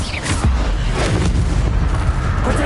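A fire spell cast in a Hogwarts wizard video game bursts out as a loud, sustained whooshing roar with low rumbling booms, dense and close throughout, no voices.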